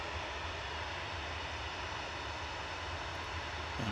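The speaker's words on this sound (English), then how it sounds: "Next arrival is going to be Aer Lingus ATR 72-600." Aer Lingus ATR 72-600 turboprop arriving from Belfast at Manchester Airport, a faint, steady engine drone with a low, even hum, heard alone without voices.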